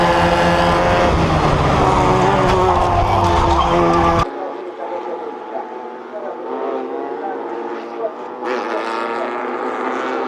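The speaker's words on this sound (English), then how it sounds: "the BMW rockets into the tyre wall" A BMW race car runs onto AstroTurf, skids and slams into a tyre wall during a motorsport race, giving about four seconds of loud engine roar and skidding, then quieter trackside noise with a voice speaking.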